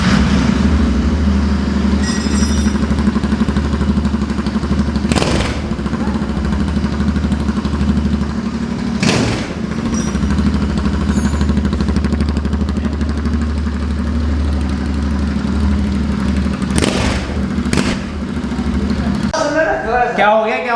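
A Royal Enfield Interceptor 650 twin runs with both exhausts removed, a loud, raw, steady drone close by that holds throughout, with a few sharp bursts and a rising rev near the end.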